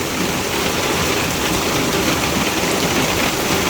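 Dense, continuous hiss of hailstones pelting a roof during a summer storm in Sisaket, Thailand, steady and loud throughout with no pauses or voices.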